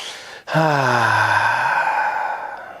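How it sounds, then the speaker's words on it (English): A big breath drawn in through the nose during a yoga session, then a long, loud, sighing exhale out through the mouth, heard close and alone. "Take a nice big inhale through your nose. Exhale out your mouth."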